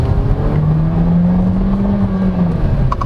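A 2023 Volkswagen T-Cross SE crossover accelerating at full throttle in drive mode, its engine droning steadily with a rising then leveling tone heard from inside the cabin, with no talking.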